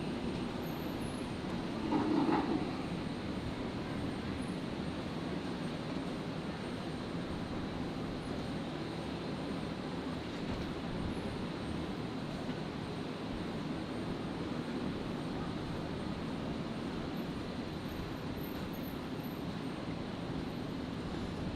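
A Cathay Pacific Boeing 777 in oneworld livery lands on runway 01 right at Brisbane Airport, arriving from Hong Kong. Its engines make a faint, distant, steady roar, with a brief swell near the start.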